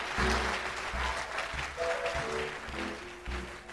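A church congregation claps during a healing service, a sustained wash of hands mixed with musical tones and fluctuating crowd noise.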